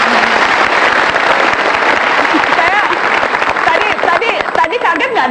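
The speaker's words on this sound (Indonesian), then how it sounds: "Kita kasih tepuk tangan untuk Lia" Studio audience applause for a guest on the Indonesian talk show Mata Najwa, a loud, dense wash of clapping lasting the whole stretch, with voices and crowd murmur mixed in underneath.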